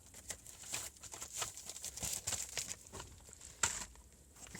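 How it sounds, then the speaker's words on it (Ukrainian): Small items from a parcel shipped from China are pushed back into a small plastic bag, giving quiet, close crinkling and rustling in uneven bursts, with one sharper crackle near the end. "Запихаємо назад в пакетик, відкладаємо далі"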